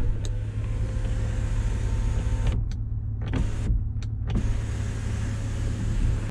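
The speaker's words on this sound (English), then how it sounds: "These are rugged switch for opening a sunroof." Power sunroof motor on a 2009 Subaru Tribeca Optimum SUV whirring steadily for several seconds inside the cabin, with a couple of brief dips and clicks midway, close and fairly loud over a low interior hum.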